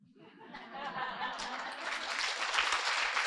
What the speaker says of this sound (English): let us give a big round of applause